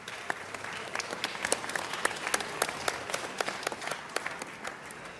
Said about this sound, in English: Let's give another round of applause for our Dodger great